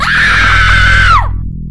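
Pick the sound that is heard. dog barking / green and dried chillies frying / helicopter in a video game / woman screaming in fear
woman screaming in fear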